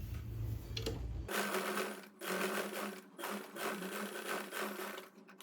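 Sewing machine stitching a blouse, a brief low motor hum at first, then fast close whirring stitch runs broken by short pauses, no talking.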